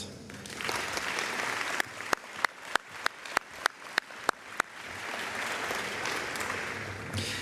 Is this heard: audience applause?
yes